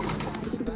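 Pigeons give low, soft coos in a brief burst, close by amid faint background noise.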